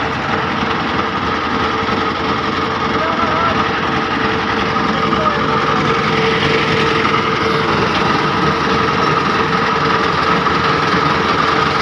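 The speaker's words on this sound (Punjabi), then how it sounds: "ਤੁਹਾਨੂੰ ਦਿਖਾ ਦਿੰਦੇ ਹਾਂ ਮਸ਼ੀਨ ਚੱਲਦੀ ਹੋਈ" A concrete mixer machine runs steadily for a roof slab pour on a building site, its engine droning loud and close with a continuous rattling churn that never lets up.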